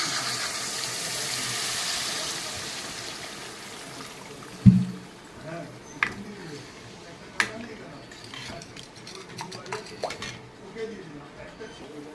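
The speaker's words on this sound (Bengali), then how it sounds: "এখন আমি এর মধ্যে জল দিয়ে দেবো।" Water is poured into a pan of fried spices, sweetened with a pinch of sugar, for a fish curry: a steady rushing pour fills the opening seconds, then fades into scattered clinks and knocks of utensils.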